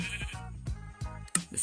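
Sheep bleating in the video game Minecraft, three or four short, nasal bleats in quick succession, close and clear with no talk.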